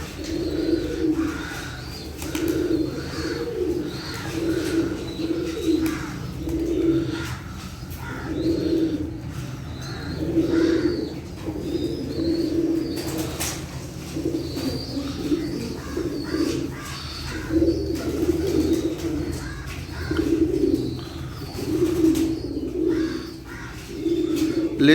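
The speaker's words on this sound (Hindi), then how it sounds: "ये देखे सारे कबूतर अब पानी पी रहे हैं।" Pigeons coo steadily in a repeating rhythmic pattern while they drink water, close and continuous, with faint chirps and a few wing flaps.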